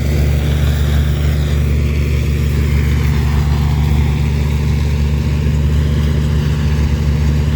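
Engines of vintage tractors, including David Brown and Massey Ferguson machines, running loud and close with a steady, deep, unbroken throb.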